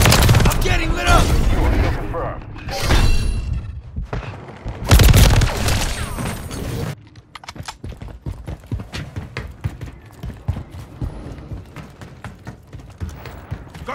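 Gunfire in Call of Duty MW3 gameplay: loud, dense bursts of automatic fire and booming shots up close, then a rapid stream of sharper, thinner shots, with voices shouting over the action.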